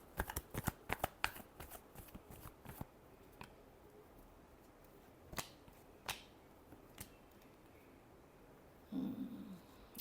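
Tarot cards being shuffled up close: a quick burst of riffling flutters at the start, then a few isolated snaps and slides of the deck, with a soft brush of handling near the end.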